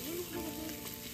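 Onion, carrot, ginger and garlic frying in refined oil, a brief steady sizzle with a soft hiss, close and continuous.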